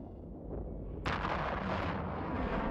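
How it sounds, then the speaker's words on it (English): Cruisers firing missiles in the video game EVE Online, a rumbling background broken by a sudden loud boom that rolls into sustained heavy, roaring blast noise. "These cruisers, by the way, are the ones that are shooting missiles at me."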